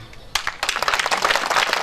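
An audience at a public gathering bursts into clapping, starting with a few sharp claps and swelling into dense, steady applause that stays loud to the end.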